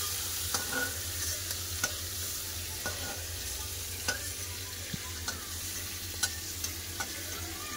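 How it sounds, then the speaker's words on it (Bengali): Prawns frying in oil in a wok, a steady close hiss of sizzling with scattered sharp clicks and scrapes of stirring spread through it, no voices. "চিংড়ি মাছ ভাজা গেছে, চিংড়ি মাছগুলো তুলে নেবো"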